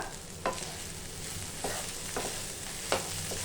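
Tomato rice with curry leaves is stirred in a hot pan, a steady frying sizzle broken by a few distinct spoon scrapes at uneven intervals, close up and with no voices.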